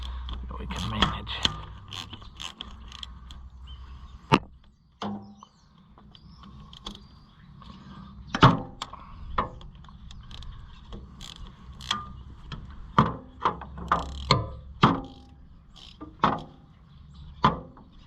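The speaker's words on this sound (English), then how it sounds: "I want to switch to the smaller ratchet again" Small ratchet working bolts loose while a John Deere 1020 tractor is being taken apart, irregular metallic clicks, scrapes and clunks close by, with sharp knocks scattered across a long stretch and some sparse voice in between.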